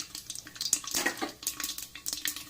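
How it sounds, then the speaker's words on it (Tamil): Mustard and fenugreek seeds crackling in hot oil in a heavy-bottomed kadai, a dense run of quick close pops and spits with no talk. "எண்ணெய் காஞ்செடுத்து கடுகு சேர்த்துக்கிறேன். இப்ப வெந்தயம் போடுறேன்."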